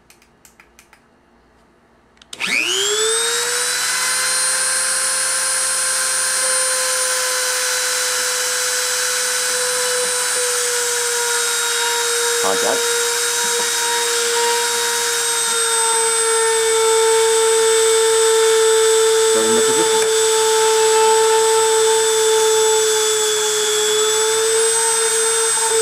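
A cladding machine laying gold wire onto steel at a plunge depth of 0.125 and a 10 mm track width, with a steady loud whine and tonal hum running continuously after a quiet start, with two brief dips midway.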